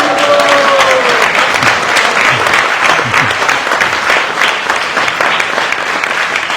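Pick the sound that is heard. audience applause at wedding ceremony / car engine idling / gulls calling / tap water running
audience applause at wedding ceremony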